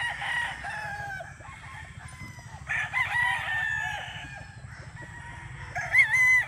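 A Boston Roundhead rooster crows several times at moderate distance, long drawn-out calls rising over a low steady background hum, with softer clucking from other fowl nearby and no talk.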